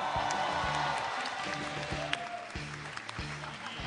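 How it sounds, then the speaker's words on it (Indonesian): Audience at an Indonesian stand-up comedy show claps steadily, a dense, fairly loud wash of applause with a few scattered voices through it. "Beri tepuk tangan untuk Ellison Bule Bandung."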